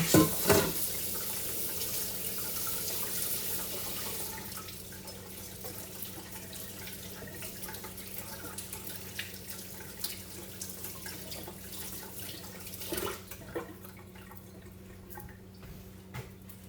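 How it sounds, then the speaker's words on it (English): Kitchen tap running as a batter spatula is rinsed, a steady soft water stream with some dripping and splashing that tapers off near the end, close and quiet. "then I will rinse the spatula off"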